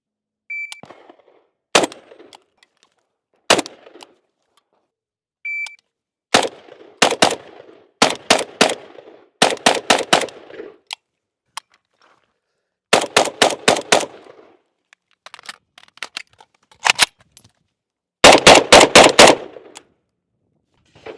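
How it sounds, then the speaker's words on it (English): A retro-mod AMD-65 rifle fires at an outdoor range, loud sharp shots ringing out singly and in quick rapid bursts with short pauses between strings, plus a couple of faint electronic beeps early on. "fire some rounds through the retro mod AMD-65"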